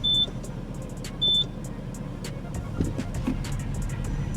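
Two short electronic beeps chirp about a second apart as a PIN code is entered on an Igla immobilizer in a 2024 Porsche Cayenne Turbo, followed by faint clicks and cabin rustle.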